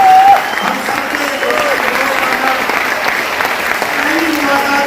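A seminar audience breaks into loud, sustained applause, thick crowd clapping that holds steady throughout, with a voice briefly heard at the start and faint vocal sounds over the clapping.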